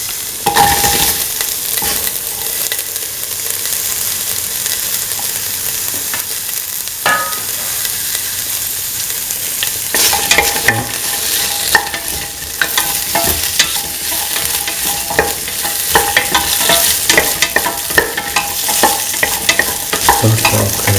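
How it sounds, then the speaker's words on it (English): Okra, ginger and shallots sauté together in a hot pan, a continuous oily sizzle broken by scraping stirs of a utensil against the metal, close and fairly loud, with no voices. "Sauce the okra, ginger and the shallots together until the shallots is pinkish color and moistness"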